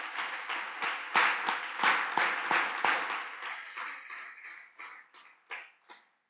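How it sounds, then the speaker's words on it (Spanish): A church congregation claps during a Sunday service, a burst of fairly close applause that thins out into a few separate, spaced claps before stopping. "Aplaudamos fuerte al Señor en este momento."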